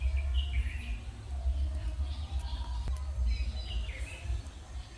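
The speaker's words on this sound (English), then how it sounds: "Sound of the birds chirping away and the bats sounds." Birds chirping outdoors in nature, several short, faint-to-moderate tweets scattered through the clip over a low, steady background rumble.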